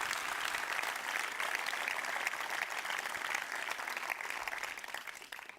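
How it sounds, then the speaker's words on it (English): A TEDx audience breaks into applause, a dense, steady wash of many hands clapping at once that holds throughout and tapers slightly at the end. "give a big warm round of applause for Mike and Linda"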